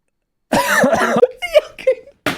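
A man coughs several times in quick, rough bursts, close and loud, with brief pauses between.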